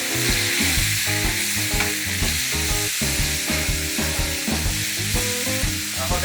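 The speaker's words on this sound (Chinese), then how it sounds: "黄油全部融化之后，我们再加入口蘑" Button mushrooms fry in melted butter in a pan with a steady, loud, close sizzle and the scrape of stirring throughout, with no voices.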